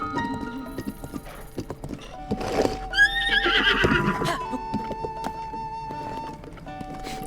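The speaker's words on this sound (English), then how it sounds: "The horses look really good." A horse whinnies loudly in the middle of Breath of the Wild gameplay, surrounded by clopping hooves and game-like ambient tones, with a steady musical hum underneath.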